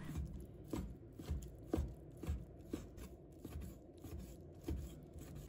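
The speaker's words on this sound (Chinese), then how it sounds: "然后切成小丁" Knife cutting chicken breast into small cubes on a cutting board for a home-style bitter melon and tofu dish, giving quiet, irregular chopping taps at a steady working pace with faint scraping between strokes.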